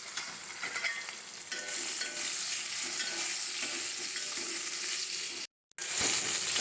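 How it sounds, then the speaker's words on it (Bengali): Eggplant slices frying in a little oil while cooking fish curry, a steady dense sizzle close by throughout, cutting out briefly near the end before resuming. "এবার বেগুনটাকে একটুখানি তেলের মধ্যে ভেজে তুলে নিচ্ছি।"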